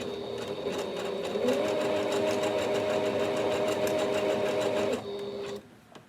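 A Singer Heritage sewing machine runs steadily through a zig zag stitch, a close, continuous mechanical whir with a fast rhythmic needle patter for about five seconds before slowing and stopping.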